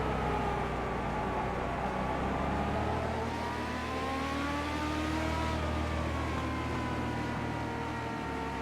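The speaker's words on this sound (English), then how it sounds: "The iRacing.com pace car, the Ford Mustang, back on the racing surface. We'll get everybody slowed up behind them." Race cars in the iRacing sim game lap steadily at reduced speed behind the Ford Mustang pace car at Texas Motor Speedway, a continuous layered engine drone with slowly rising and falling tones.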